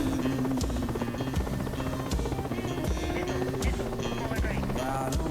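Mi-8 helicopter in a combat video game, a steady loud rotor drone with rhythmic thudding beats and whine running throughout, mixed with intermittent sharp game effects and faint background clatter.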